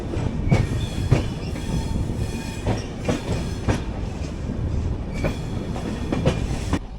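The Maithili Express runs on rails approaching Kolkata, a loud, steady rumble with repeated clickety-clack wheel beats over joints and faint wheel squeal, no voices.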